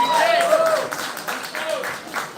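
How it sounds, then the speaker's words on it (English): An audience at a live pre-release film event applauds, a broad wash of clapping that carries through the whole moment, with a high tonal whistle-like sound briefly over it. "A big round of applause."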